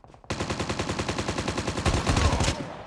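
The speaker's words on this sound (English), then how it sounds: "Oh, is he shooting at someone else?" Call of Duty Mobile battle royale gunfire: a steady, rapid automatic burst of evenly spaced shots that runs without pause for over two seconds, loud and close, with no talk over it.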